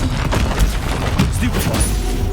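Fire spells Confringo and Incendio are cast in the Hogwarts Legacy video game: a dense, steady rumble of magical blasts and crackling effects continues without a break, with a low booming underneath.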